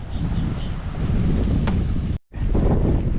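Wind gusts buffet the microphone at a cold pier in a steady rumbling roar, with a brief dropout near the end; no voices.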